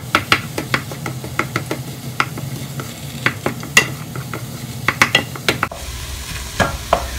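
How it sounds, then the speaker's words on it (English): Ground turkey with garlic sizzles in a pan while a utensil scrapes and stirs, sharp irregular clicks and scrapes over a steady frying hiss. "You mix all of that around."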